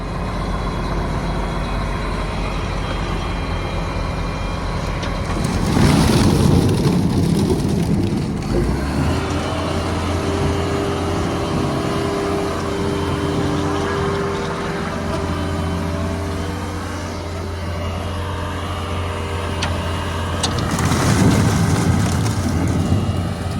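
A heavy Holmer, Ropa or Claas harvester rumbles forward through snowy, muddy ground, its engine loud and steady with two surging strain bursts and rattling, close by and without talk.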